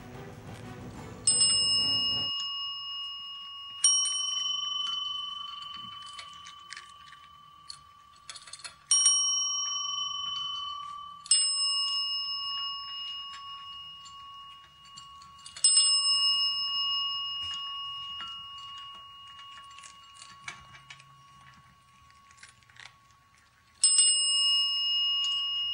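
Cats hungry for food ring a small bell again and again, giving bright metallic rings in irregular bursts that each ring out and fade, with faint clicks and rattles in between.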